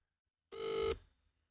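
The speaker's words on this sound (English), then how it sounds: "Jack Wilshere, let's phone him live. He won't pick up" A telephone dial tone or dialing beep sounds once on a live sports talk radio show as a call is placed, a single steady electronic tone about half a second long, clean and isolated with nothing around it.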